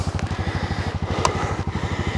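A motorcycle rides along dirt tracks at Tolderol Game Reserve, its engine giving a steady, close, rapidly pulsing rumble that continues for the whole stretch with no talk.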